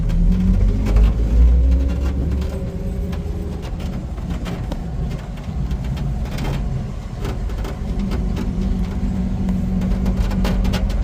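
An old 1951 Ford F1 pickup truck drives along on old tires with a steady engine drone, rattling and clattering from the cab and body throughout.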